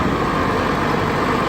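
Tractor engine running in a steady, continuous rumble as it pulls up, close and moderately loud with no talking.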